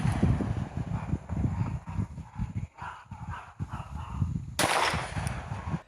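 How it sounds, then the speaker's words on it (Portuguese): A man test-firing a weapon at random in the Planalto Serrano neighborhood of Serra: a dense run of muffled, thumping shots in uneven rhythm, capped near the end by one louder, sharper crack, with no talking. "Este homem que testa o armamento e atira aleatoriamente"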